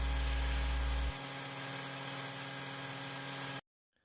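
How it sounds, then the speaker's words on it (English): An electric sander shapes a Damascus steel knife handle in a forge workshop, giving a steady, loud whine with a low hum that drops after the first second, running alone for about three and a half seconds before cutting off abruptly. "Using my other mediocre sander, I use the lines as a guide to get the shape I want so it matches the steel."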